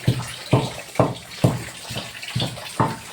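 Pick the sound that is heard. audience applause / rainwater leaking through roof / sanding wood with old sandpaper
rainwater leaking through roof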